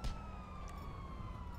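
A police car siren in GTA 5 Online wails steadily at a distance, a faint sustained tone under a low engine-like rumble.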